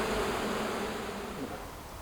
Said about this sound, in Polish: komary zjadają mnie żywcem